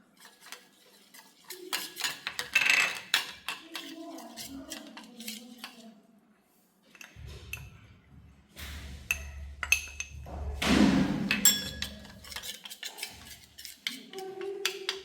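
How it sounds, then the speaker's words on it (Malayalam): A spoon stirs a maida flour mixture in a bowl in two bursts of scraping and clinking, with close metal-on-bowl taps between quieter pauses. A faint voice comes in briefly. "മൈദട്ട് കൊടുത്തിട്ട് നന്നായി ഇളക്കി കൊടുക്കുക."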